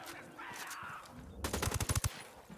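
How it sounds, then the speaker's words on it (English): Automatic gunfire from the open-world shooter Ghost Recon Wildlands: after a quiet stretch of faint background game noise, a fast burst of shots breaks out up close, each crack sharp and punchy, then the burst stops. "Tango heard the gunshot."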